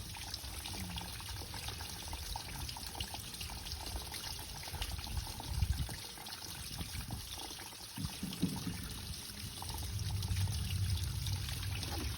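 Water flushes steadily through the heating coil of a Lay Z Spa inflatable hot tub, a continuous gurgling, trickling rush that swells slightly toward the end, with no talking.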